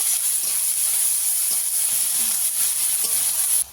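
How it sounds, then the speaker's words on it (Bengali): Onions fry in a pan with a constant loud, bright sizzle that holds steady, then drops sharply near the end. "দিয়ে দেবো কেটে রাখা পেঁয়াজ। পেঁয়াজটাকে ভালো করে ভেজে নেব।"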